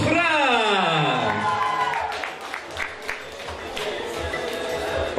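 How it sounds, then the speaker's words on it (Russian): An audience claps at a Uyghur beauty pageant, a steady patter of applause rising under a voice that speaks over it from the start. "Аплодисменты Бададжиева"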